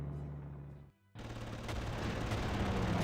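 Rapid gunfire in the Panzer Corps strategy game as fighter aircraft shoot down enemy fighters, a loud dense burst that cuts out for a moment and then resumes, steady and sustained.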